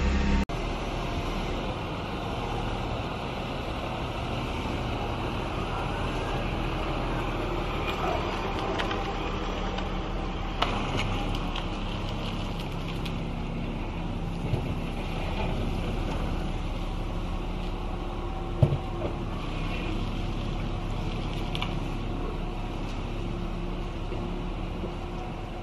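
A Toyota Starlet KP61 idles while warming up, its exhaust pointed outside, giving a steady low engine drone with no change in pitch, mixed with wind buffeting the microphone and no talking.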